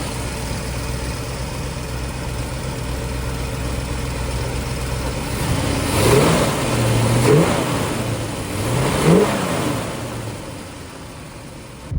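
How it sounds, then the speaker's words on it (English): A 1969 Shelby GT500 428 Super Cobra Jet convertible drives off, its big V8 idling steadily before rising through two revving surges as it pulls away, fairly close and loud with no talk. "We're taking her down the road for a little drive for y'all."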